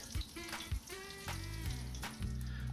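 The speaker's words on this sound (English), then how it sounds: "Then I just fry them in some oil. We want it to be brown on all sides." Sausages frying in oil in a pan, a soft, fairly quiet sizzle broken by a few short knocks and pops, with a tonal hum running underneath.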